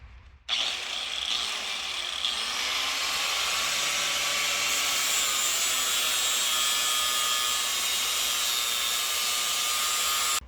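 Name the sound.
cleaning up a transmission cross member for welding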